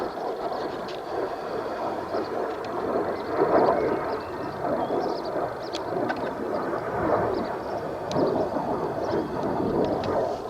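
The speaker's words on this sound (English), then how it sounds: "there goes a jet." A jet aircraft, likely an RAF training flight, passing high overhead on a clear day at a campsite, a faint, far broadband roar that swells and eases across several seconds, with light wind noise and no clear talking.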